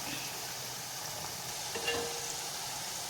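Raw banana slices deep-frying in hot oil for a South Indian vazhakkai poriyal, a steady close bubbling sizzle with a brief stir partway through.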